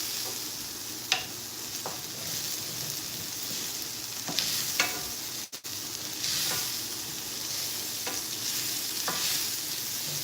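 Onions sauté in a hot pan, a continuous loud sizzle with occasional stirring clicks and one brief dropout partway through, and no voices.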